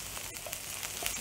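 Celery and onion browning in a pan give a steady, close sizzle with faint crackles, heard alone for a brief moment.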